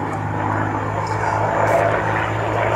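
An Ilyushin Il-2 aircraft with a 1,720-horsepower V12 propeller engine drones loudly and steadily at close range, a continuous rumbling hum with no pauses.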